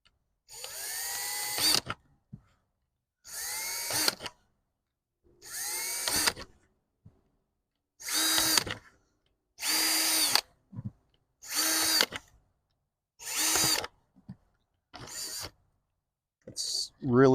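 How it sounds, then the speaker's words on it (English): A power drill bores small holes into the lip of a plastic bucket being made into a bee feeder, eight short whirring bursts separated by brief silences, close and fairly loud. "It's really that quick to drill the holes into."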